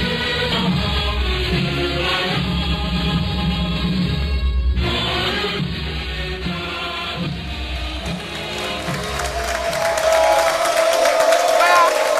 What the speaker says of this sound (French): On les applaudit comme eux.